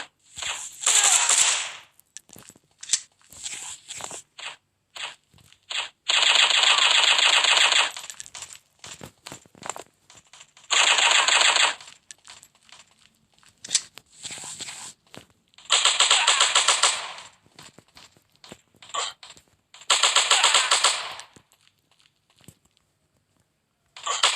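Gunfire in the offline Counter-Strike video game, loud bursts of automatic rifle fire in several separate volleys with short sharp shots and gaps between them, close and dominant.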